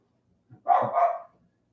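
A dog barks once, a single short close bark with a small yip before it, in an otherwise quiet room.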